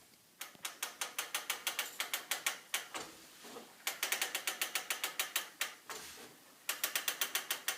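A Gammill longarm quilting machine advancing the quilt, giving rapid evenly spaced ratcheting clicks in several runs with brief pauses between them, close and clear with no voices.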